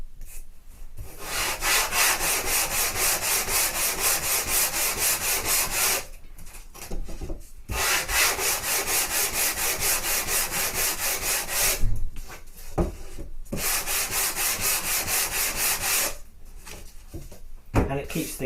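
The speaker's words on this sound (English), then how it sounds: "So a quick sanding block." Rapid rhythmic rasping of a sanding block scrubbing back and forth on wood, in several long bursts separated by brief pauses and small knocks.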